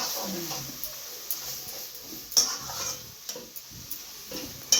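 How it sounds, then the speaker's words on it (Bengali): Mustard seeds, bay leaf and dried red chilies tempered in mustard oil are stirred in a pan, giving a faint, steady sizzle broken by scattered light scrapes and clicks of the spatula. "খুব ভালো করে নাড়াচাড়া দিতে হবে মিশিয়ে নিতে হবে"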